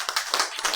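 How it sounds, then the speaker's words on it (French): A church congregation claps together in brief bursts, several sharp rounds of hand-clapping close by with no voices over them. "Nous pouvons applaudir le Seigneur pour la vie de mon père spirituel, le prophète Jean-Claude Vadamoutou."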